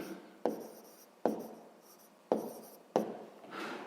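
Pen strokes scratch across paper in four short bursts with brief pauses between them, close and fairly quiet, while sixth-grade math is worked out by hand with no talking.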